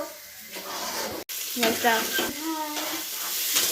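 Chow mein sizzles in a pan at an outdoor picnic, a close, steady frying hiss with scraping stirs and a brief cut near the middle, while a voice talks over it.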